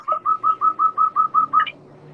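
A voice imitates a chicken, nine evenly spaced whistled hoots in a steady rhythm, fairly loud and close, ending with a short rising note.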